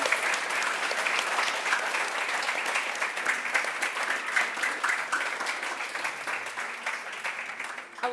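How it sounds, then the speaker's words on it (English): An audience applauds panelists at a conference main event, a dense and steady round of clapping that runs the whole time at an even level, with no talking over it. "So please join me in a big round of applause for our panelists."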